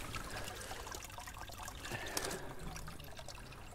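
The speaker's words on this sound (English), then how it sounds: "So it says, this is a water feature." Water trickles steadily in an outdoor water feature at the Hill of Tara, a continuous close dribbling wash that runs unbroken under faint ambient noise.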